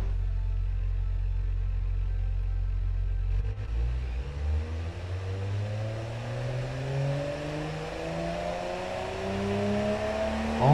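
A low-horsepower car engine in a car-building video game drones steadily, then revs up through rising, whining gear sweeps that climb repeatedly, loud and close with no talking.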